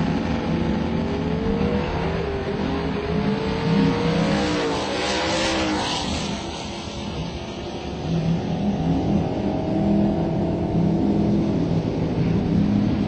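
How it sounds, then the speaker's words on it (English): A 1984 Ford Mustang and a 1986 Ford Mustang rev and launch at a drag strip, with a sustained loud engine roar whose pitch rises and falls against a constant rumbling background. "The 84 Stang takes on the 86 Mustang of retiree Greg Bagnell."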